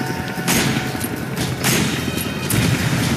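Gunshots in the video game Resident Evil 5, several loud broadband blasts spaced about a second apart over a dense, noisy game soundscape, with no talk.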